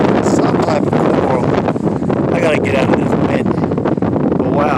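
Wind buffeting a microphone out in the desert near Las Vegas, a loud rough continuous rumble and roar filling the whole stretch, with indistinct voice-like bits mixed into the gusts.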